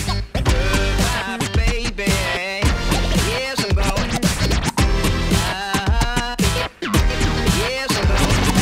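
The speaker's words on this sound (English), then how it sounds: "we're gonna utilize it as a scratch in technique for mixing" A DJ performs a scratch on a turntable, cutting rapidly back and forth over loud, dense music, with sharp chirping swipes throughout.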